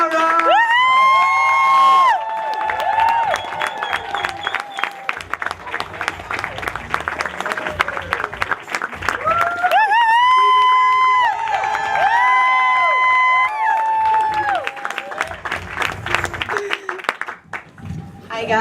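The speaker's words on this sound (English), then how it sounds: "I want you guys to be really supportive and start a big applause" A stand-up comedy audience cheers, whoops and applauds loudly as a comedian walks onstage, with shrill excited shouts and dense clapping rising and falling in waves.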